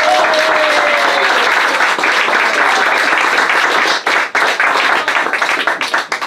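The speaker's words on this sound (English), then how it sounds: "Give her a round of applause." A crowd in a pub, John B Keane's Bar, applauds a writer at a 70th birthday gathering, with full, dense clapping that thins into scattered claps in the final seconds.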